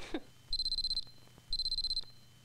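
An alarm clock beeping in two loud bursts of rapid, evenly pulsed electronic beeps, each lasting about half a second, heard close and alone.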